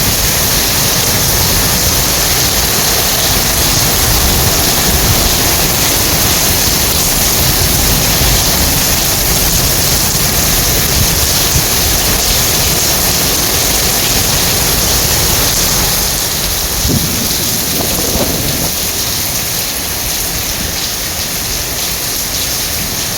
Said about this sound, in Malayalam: വെള്ളം ഒഴുകി പോയി തുടങ്ങി മുകളിൽ നിന്ന് വീഴുന്ന വെള്ളമാണ്